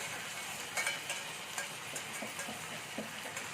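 A pan of fried mixture is stirred as sauces are worked in, giving faint, steady scraping and soft sizzle with light utensil taps close by, no voices.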